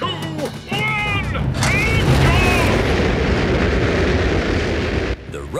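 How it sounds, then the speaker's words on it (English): Cartoon rocket blasting off right after a countdown: a loud, sustained roaring rumble starts about a second in and holds steady for several seconds, with cartoon voices and music over the top before it cuts off near the end. "the rocket is flying back home"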